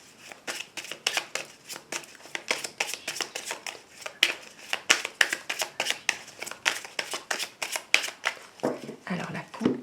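Tarot cards are shuffled by hand in a quick steady run of crisp, riffling slaps, close up, ending with a few softer handling sounds as the deck is cut.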